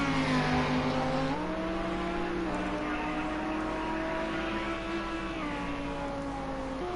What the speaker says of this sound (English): trying to chug his Lamborghini round Algarve